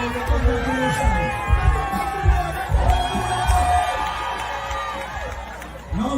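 A large outdoor crowd at the Hits and Jams 9th anniversary event in Stabroek Market Square cheers, shouts and whoops continuously, loud and dense, with voices chattering throughout.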